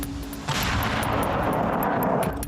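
Artillery firing on a front line: a heavy, rumbling blast begins about halfway through and then rolls on loud and sustained, with a roaring boom that fills the rest of the clip.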